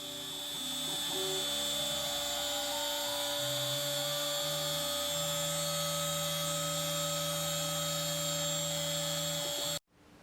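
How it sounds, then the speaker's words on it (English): A CNC machine cuts a wooden pickup cover for a bass guitar, giving a steady loud whine and hum with shifting tonal pitches that holds for about ten seconds before stopping abruptly. "So I was back out to the CNC machine to do a little bit more cutting."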